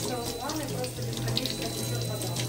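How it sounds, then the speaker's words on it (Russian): Hot water from a gas boiler gushes steadily from a bathroom tap, a close continuous splashing rush into the basin, with a low hum beneath. "Пошла горячая вода."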